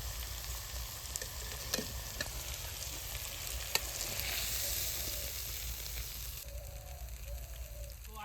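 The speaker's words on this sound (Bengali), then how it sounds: "করলা ভাজা হয়ে গেছে এবার নামিয়ে নেবো" Bitter gourd frying in a pan, a steady close sizzle and crackle of hot oil with occasional sharper pops and stirring clinks, heard alone without talk.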